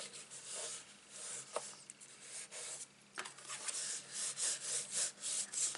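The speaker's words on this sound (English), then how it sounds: "Just going to open that out and give that a good rub down." Folded Stampin' Up! paper card being rubbed down by hand, a soft dry brushing friction in repeated strokes, close and fairly quiet, growing steadier and more rhythmic toward the end.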